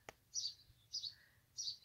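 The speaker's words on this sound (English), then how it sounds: "I hear a little bird." Small bird chirping from a nest in a house's eave corner, three short high chirps spaced evenly, faint and fairly distant in a quiet setting, preceded by a soft click.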